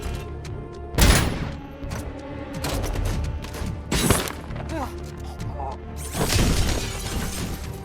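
Loud bursts of glass shattering in the RoboCop: Unfinished Business video game, several crashes spread over the span with gunfire-like impacts and tinkling debris, while a voice talks over the action.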